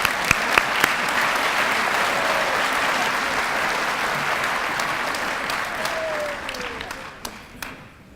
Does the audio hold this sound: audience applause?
yes